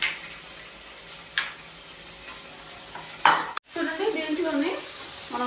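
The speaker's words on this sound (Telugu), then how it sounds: "ఫ్రై చేసే దానిలోనే కొంచెం కొత్తిమీర కొంచెం పుదీనా వేసుకొని ఫ్రై చేస్తున్నాము" Green chillies, ginger, coriander and mint fry in a pan with a steady close sizzle, broken by a few sharp stirring clatters and a brief drop before the frying resumes louder.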